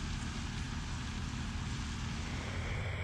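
A Griffon 470 TD twin-engined hovercraft roars at steady volume, a dense, unbroken engine and propeller drone with strong low rumble and broad airy noise, no pauses.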